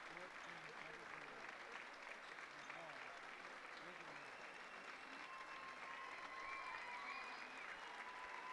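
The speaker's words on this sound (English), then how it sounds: "The crowd celebrates the seniors here on Senior Day" A basketball crowd applauds and cheers seniors on Senior Day at a women's college game, sustained clapping from the stands under a commentator's voice.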